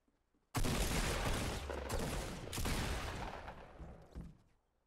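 Gunfire in a hero-based shooter video game: a sudden loud barrage of rapid shots kicks in and sustains for several seconds, swelling again midway before tapering off into quiet.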